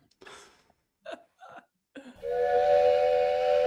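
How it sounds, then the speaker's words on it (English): Following a few short gasping vocal bursts, a train whistle sound effect blares in loudly and holds as a steady, sustained multi-tone blast to the end. "Y'all know what the train whistle means?"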